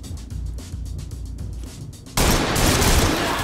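A dense burst of gunfire from the tactical shooter Ready or Not, loud and close, with rapid overlapping shots breaking in after a stretch of quieter, busier in-game noise.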